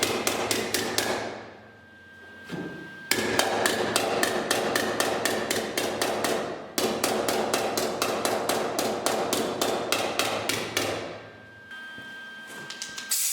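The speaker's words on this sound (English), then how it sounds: "after pounding this patch panel out a little bit" A hammer pounds a steel patch panel on a 1970 Chevy C20 truck in rapid, evenly spaced ringing metallic strikes, close and loud, in several bursts separated by short pauses.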